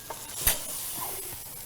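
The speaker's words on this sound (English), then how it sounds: "let's get these steaks off these pans and let them rest." Steaks sizzling in hot pans, a steady close hiss of frying with a couple of sharp spits and clinks, no talking.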